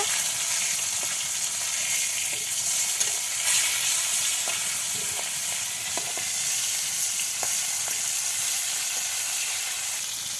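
Marinated fish frying in hot oil for a rain-day home recipe, a steady bright sizzle that hisses on through the whole stretch, with a few sharp crackles and soft spatula knocks as the pieces are turned over.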